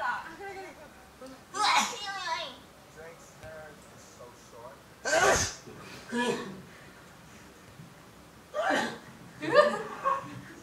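A K-pop idol lets out loud, sharp sneezes: a few abrupt bursts spread across the stretch, mixed with chatter and laughter from reacting viewers.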